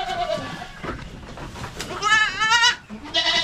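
Goats bleat nearby on a farm, with a wavering, tremulous call standing out loudly among shorter bleats and faint rustling and background voices.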